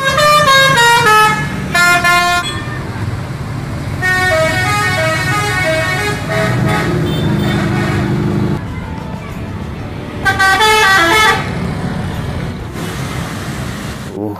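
A bus in a video game, including a Budiman bus and a Kencana-bodied bus, sounds its musical horn in loud repeated melodic bursts over a low engine rumble.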